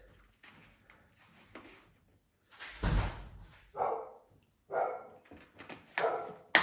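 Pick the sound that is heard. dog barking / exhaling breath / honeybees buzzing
dog barking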